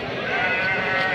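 Young goats bleat continuously at a busy goat-kid market in Tumakuru, a dense, close chorus of overlapping cries.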